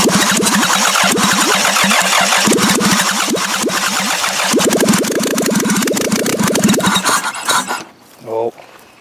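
A damaged, smashed-up Toyota Camry engine cranks with rapid rhythmic churning for several seconds, then catches and briefly revs before cutting out, loud and close.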